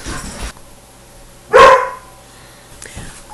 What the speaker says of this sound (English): every time I turn this off, the dogs start barking again